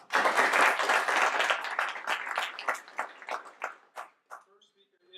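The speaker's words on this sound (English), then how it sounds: "So a round of applause for that." Applause from a design conference audience, loud at first, then thinning into scattered individual claps that die away over several seconds, followed by a faint voice.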